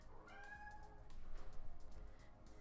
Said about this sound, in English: I have a cat that's meowing